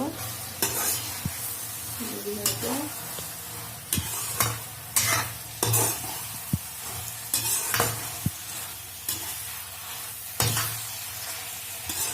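Food sizzles steadily in a pan, with ginger, garlic and mustard paste added, while a utensil scrapes and stirs it in repeated, irregular strokes.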